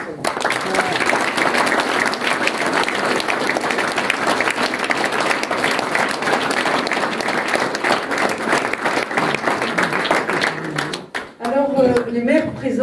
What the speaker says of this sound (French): vous méritez à ce stade de mon discours de très très chaleureux applaudissements